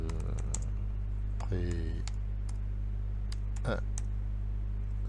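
Typing on a computer keyboard while entering text in a Word document, a scatter of close clicking keystrokes over a steady low electrical hum, with a brief voiced sound midway.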